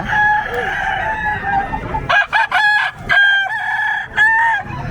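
Fighting roosters at the Bocaue pet market in Bulacan crow loudly and close by, in repeated harmonic calls with a few clucks between, against a busy market background; no speech.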